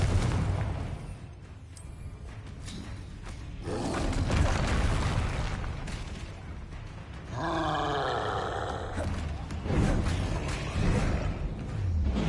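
Confringo fire spell blasts in Hogwarts Legacy combat land as heavy booming explosions with roaring, rumbling tails, recurring through a busy stretch of spellcasting amid other magical whooshes and impacts.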